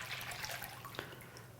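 Melted candle wax pours through a ring into a container, a faint soft liquid trickle with light drips and a low background hum.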